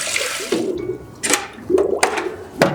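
Sanitizer solution, about 2.5 gallons of water with dissolved sanitizer, is dumped into a soft serve machine, giving a few sloshing, splashing pours and gurgles close by with no talking.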